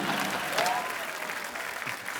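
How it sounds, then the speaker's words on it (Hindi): A studio audience at a comedy talk show claps steadily and loudly, a dense even wash of applause holding from start to finish with faint crowd murmur underneath. "सरला के लिए जोरदार तालियां"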